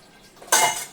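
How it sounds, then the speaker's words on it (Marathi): A clay pot being rinsed and filled with water: a short, close burst of rushing, splashing water that starts abruptly halfway through after a quiet moment. "आणि मटका धुवून पाणी भरते आता मस्त स्वच्छ असं."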